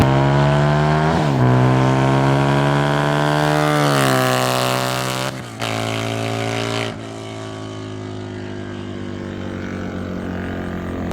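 A Harley-Davidson V-Rod Muscle fitted with a TAB Performance exhaust revs hard and accelerates up through the gears, loud and close, with rising harmonic sweeps, brief cuts between shifts and a final lower drone.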